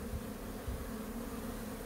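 Honeybees buzz steadily near a water feeder set out at the hive entrance in spring, a close, continuous drone with no voices.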